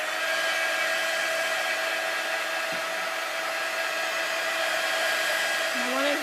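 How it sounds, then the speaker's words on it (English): Embossing heat tool blowing hot air to dry watercolor paper, a loud, steady whirring roar held close throughout with no talking. "now you're going to take your heat tool. So sorry for the loudness."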